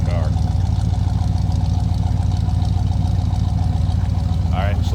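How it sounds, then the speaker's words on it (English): A 1971 Pontiac T37 sports coupe with a 350 V8 and aftermarket exhaust idles steadily, a low, even rumble that stays loud and close without a break. "It does have an aftermarket exhaust on it. Get a little rumble out of that 350."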